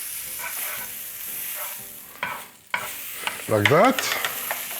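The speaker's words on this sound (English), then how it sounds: "So first, I'm going to put some butter in my pan" Butter melts in a frying pan ahead of fried eggs, giving a steady close sizzle that runs throughout, with a short burst of speech near the end.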